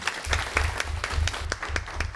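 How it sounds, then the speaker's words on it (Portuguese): A short round of steady, fairly close clapping fills a public commission session on replacing asbestos, with a low hum running underneath. "então uma salva de palmas aqui a..."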